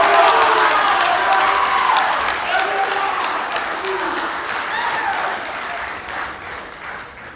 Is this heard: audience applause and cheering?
yes